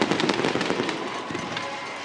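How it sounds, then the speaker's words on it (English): Fireworks go off inside a football stadium during the NCAA Football 2025 video game, Jackson State at Florida A&M, a rapid run of loud crackling bursts that thin into a steady fizzing roar. "The fireworks inside the stadium, leaving orange and green into the air."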